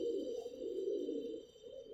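Soft, low cooing of pigeons, a continuous murmuring warble close by, with a faint high whine in the background.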